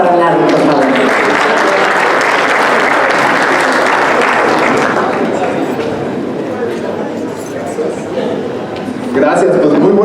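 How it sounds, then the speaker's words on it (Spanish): A conference audience applauds Larry Rubin, president of the American Society of Mexico. The clapping is loud, dense and sustained across the room, with crowd voices mixed in, easing slightly before swelling again at the end. "Les pido un aplauso para Larry, por favor."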